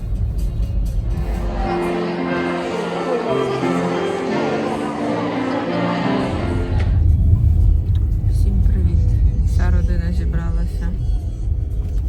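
Steady low road rumble inside a car driving home in England, continuous throughout and growing slightly heavier in the second half, with a tonal layer over it during the first few seconds.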